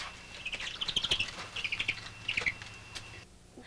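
Native wild birds at a sanctuary for orphaned and injured birds chirp in quick high bursts of tweets, several clustered calls repeating over steady outdoor ambience.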